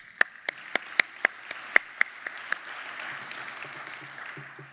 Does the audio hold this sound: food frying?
no